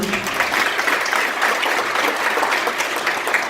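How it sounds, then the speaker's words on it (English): Applause for table 1 at a concierges' monthly meeting, a steady dense wash of clapping from a roomful of people, close and even throughout with no talk over it. "Big round of applause, table 1"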